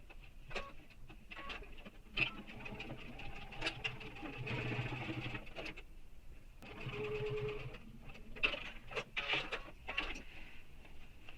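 A sewing machine runs in short bursts stitching backpack panel seams, fast mechanical whirring in two longer runs between soft clicks and handling of fabric, fairly quiet and close.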